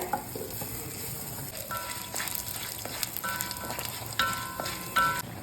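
Urad dal and chana dal fry in hot oil for a Kerala-style thoran, giving a steady crackling sizzle with brief stirring scrapes and a few sharp pops near the pan, with no talk.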